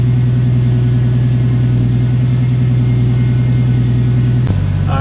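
Toyota Supra engine running steadily at idle up close, a loud, even low hum and rumble that shifts abruptly in pitch near the end, with no talk.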